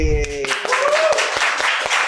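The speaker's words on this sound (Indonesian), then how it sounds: "Ya, tepuk tangan lo tapi." A few single hand claps ring out close by in an evenly spaced run after a short bit of voice at the start.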